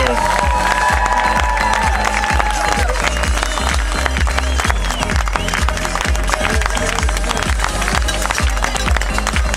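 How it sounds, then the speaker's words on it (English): At the 2015 Amgen Tour of California team introductions, an outdoor crowd applauds and cheers a cycling team leaving the stage. Scattered clapping and shouts are heard under loud, thumping event music. "Give it a round of applause, guys."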